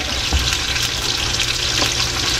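Tofu frying in hot oil for binagoongang tokwa, a steady close sizzle with broadband crackle and occasional sharper pops of splattering oil, no voices.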